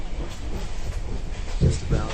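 Vietnam Railway sleeper train rolling along, a steady low rumble with a couple of heavier wheel thumps near the end, heard from inside the carriage.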